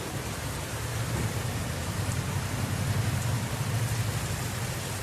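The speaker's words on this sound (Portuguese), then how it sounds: "Olha a chuva." Steady rain pours down outside a kitchen, a dense, even hiss of drops with no talking over it.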